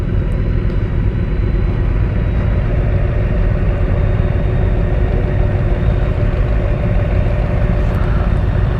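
A 2024 BMW K1600B motorcycle engine runs with a steady, loud, dense rumble that holds level throughout, heard close up with no talking.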